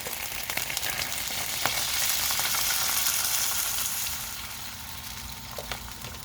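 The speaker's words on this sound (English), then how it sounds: "So I'm going to go ahead and add some beef broth to this." Spicy eggplant frying on medium high as beef broth is poured in, giving a loud, steady sizzle with occasional stirring clatter that eases slightly toward the end, no voices.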